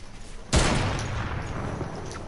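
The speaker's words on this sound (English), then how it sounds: "I'm just doing a heavy sniper" One loud heavy sniper rifle shot in Fortnite cracks out suddenly and is followed by a long, booming echo that slowly dies away.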